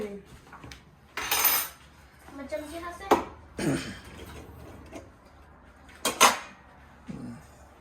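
Spoons and dishes clink in a few sharp bursts, close by, with quiet household noise and a voice briefly in between.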